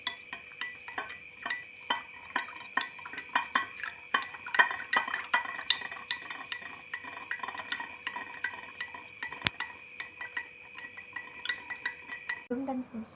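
A spoon stirs milk, water and wheat bread in a bowl, with steady light clinks and scrapes against the bowl in an irregular rhythm, close by and fairly quiet, with no talking.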